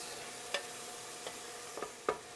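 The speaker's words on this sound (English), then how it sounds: "just sauteing onions and adding spices" Onions saute in a hot pan with a steady sizzle, broken by several sharp clicks and scrapes of stirring, close and fairly loud with no talking.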